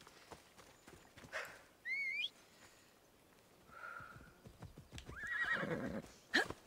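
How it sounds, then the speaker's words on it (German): Horse in the Assassin's Creed Odyssey video game whinnies twice and snorts, with clip-clopping hooves building toward the end, all fairly faint over a quiet game ambience. "Los, Hotte Hü, mein Pferdchen, ja"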